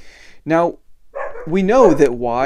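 Dogs bark in bursts near a person lecturing on calculus, yips breaking in around the speech rather than alone.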